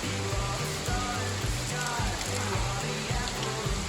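Steady rain falls hard and close, a dense continuous hiss with patter throughout, faint low murmuring underneath.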